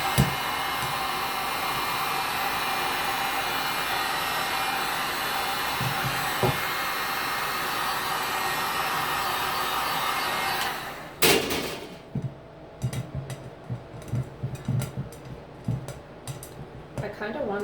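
A heat tool blows steadily over a resin dish, a loud continuous whooshing hum for about eleven seconds before it cuts off, followed by light clinks and handling sounds nearby.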